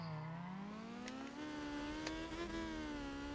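A race car engine in the game Need for Speed ProStreet holds a high, steady idle-to-rev drone at the starting line, its pitch creeping upward, loud and close with faint clicks layered over it.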